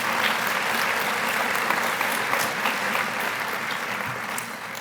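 Steady applause from a large conference audience, sustained and even throughout with no voices standing out.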